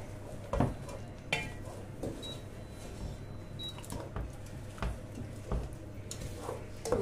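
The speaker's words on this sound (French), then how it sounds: "je mélange comme ça." A spoon stirs leek and onion frying in oil in a cooking pot for chicken thigh and rice, making faint, irregular scrapes and light clinks against the pot that come and go over a steady low background.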